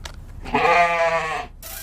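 A single drawn-out goat bleat, loud and close, rising and wavering for about a second, with quiet near-silence before and after it.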